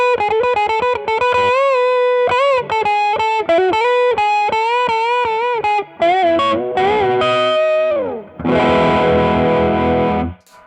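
An electric guitar plays through a Heather Brown Electronicals Sensation Fuzzdrive pedal with the saturation raised. Sustained, heavily distorted notes and bends ring out loud and close, ending in a dense fuzzed chord wash.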